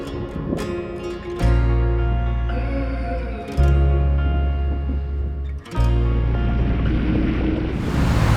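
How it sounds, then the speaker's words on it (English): A sailboat motoring out under its engine in the Tuamotus gives a loud, steady low engine drone that surges in and drops away in three bursts, over a backdrop of wind and water noise. "we are motoring for the first bit of this"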